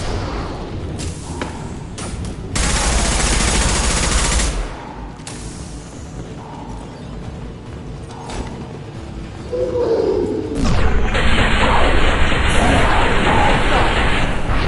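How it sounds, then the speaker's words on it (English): Gunfire in the sci-fi shooter Mass Effect 2, with bursts of shots and thuds over continuous combat noise. The volume swells at several points, and voices speak during the fighting. "Watch where you're shooting!"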